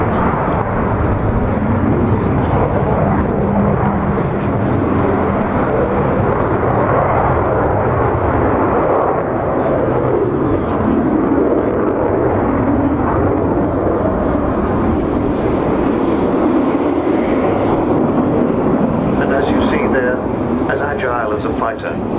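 An Avro Vulcan subsonic bomber passes at an airshow, a continuous loud jet roar that swells slightly as the power is opened up, with a commentator's voice talking over it.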